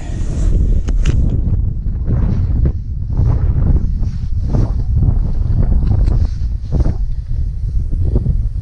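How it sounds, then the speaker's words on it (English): Wind gusting outdoors on a frozen lake during ice fishing, buffeting loud and low across the microphone in continuous rumbling surges with faint rustling above. "I'm fighting with the wind"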